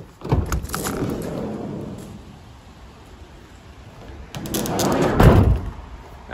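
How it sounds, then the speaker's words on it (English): Side loading sliding door on a Peugeot Boxer 2.0 BlueHDi L3 H2 panel van, heard close: a rolling slide and thud as it opens, a pause, then a second slide ending in a solid slam as it shuts. "Side loading door."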